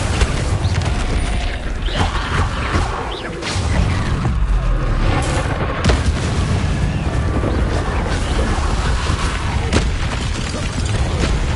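Incendio fire spell cast in the Hogwarts Legacy video game, a loud rush of booming, crackling blasts and bursts over a dense, continuous layer of game effects.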